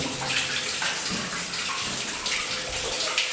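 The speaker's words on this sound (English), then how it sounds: "Lots of water flowing, dripping from the ceiling." Water runs and drips from the ceiling inside an old mine tunnel with flowstone on the walls, a continuous close splashing and trickling with no talk.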